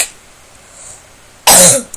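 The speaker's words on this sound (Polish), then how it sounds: "Przepraszam was za ten kaszel" A single loud, harsh cough from a man with a cold bursts out after a stretch of near silence, close to the listener.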